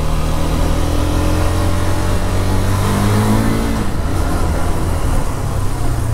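A 2022 KTM RC 390 motorcycle being ridden, its engine droning loud and close with rising and falling revs over steady road and wind noise, no talking.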